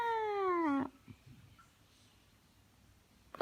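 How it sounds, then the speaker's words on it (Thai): A cat gives a loud, drawn-out meow with a falling pitch, then a quieter pause, and a second meow starts right at the end, close by with no talk. "มันเจ้าแมว"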